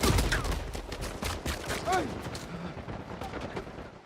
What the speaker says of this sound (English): keep shooting me in the back